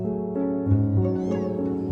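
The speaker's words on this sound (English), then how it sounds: "Yes, I understand about the cat." A cat meows inside the video game Before Your Eyes, a drawn-out tonal cry that rises and wavers for about two seconds over a steady backdrop of game music.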